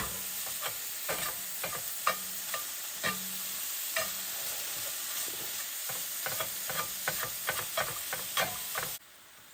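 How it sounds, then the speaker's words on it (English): Breakfast sausage browns in a pan at a Christmas Eve campsite, a continuous close sizzle broken by frequent sharp scraping and clinking stir strokes before cutting off abruptly near the end. "just like any other breakfast sausage, we'll brown it."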